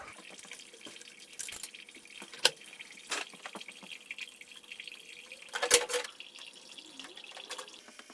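Coolant drains from a Slant 6 engine with a blown head gasket, giving a faint, steady trickle with scattered drips and a few brief clanks from work nearby.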